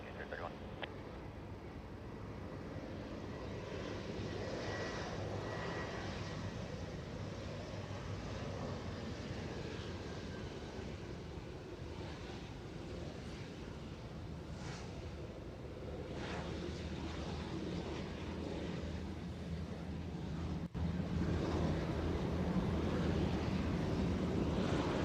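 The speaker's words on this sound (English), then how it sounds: "An arrival Alaska Central Express. Arriving on 33." An Alaska Central Express aircraft lands on runway 33 at Anchorage International, its engine drone low and fairly faint under steady wind noise, swelling a little toward the end while someone talks nearby.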